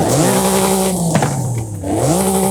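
A car engine in Forza Horizon 5 runs loud and steady, holding a high revving drone with harmonics that dip and climb as the engine note shifts, with no talking over it.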